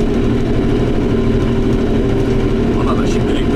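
A tractor engine, tuned with a changed turbo and pump, runs steadily and loudly up close with a constant low drone that barely varies, and someone talks over it.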